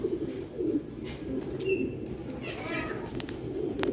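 Rooftop pigeons coo in repeated soft, rolling calls at close range, with steady ambient noise beneath and a few brief higher chirps from other birds.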